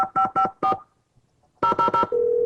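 Two bursts of quick telephone keypad tones in a Nancy Drew: Secret of the Scarlet Hand video game, four then three beeps, separated by a brief pause and ending in a steady ringing tone.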